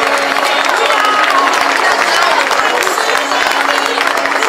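Crowd applauds and cheers at a basketball team's season presentation in Mantua, steady dense clapping filling the whole stretch, loud and close.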